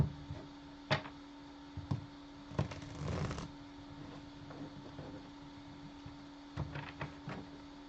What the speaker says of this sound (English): let me now shuffle and we can go to Gemini